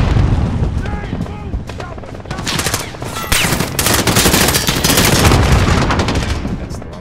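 Machine gun fire in the Modern Warfare remake video game: loud, dense bursts of rapid automatic shots with booming impacts, nearly continuous and close, layered under shouted voices.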